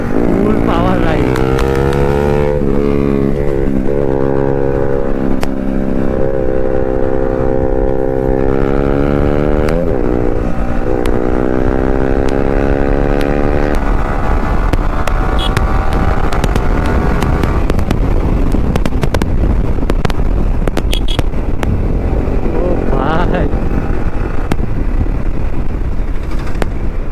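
A KTM Duke 390 motorcycle ridden at full power: the engine note climbs loudly through rising revs, drops back and climbs again, then gives way to heavy wind rush and road roar.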